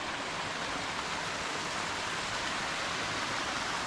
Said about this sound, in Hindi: ऐसा एक वाटरफॉल जैसा मिला है।